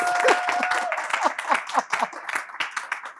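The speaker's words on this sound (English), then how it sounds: "Let's give him a round of applause." A small group claps, with uneven individual claps forming brief, moderately loud applause; a faint tone hums underneath at the start.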